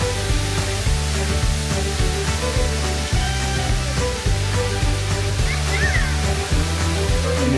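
Kuang Si Falls near Luang Prabang, Laos, rushes loudly and continuously at the top of the waterfall, a dense, unbroken roar of falling water heard up close.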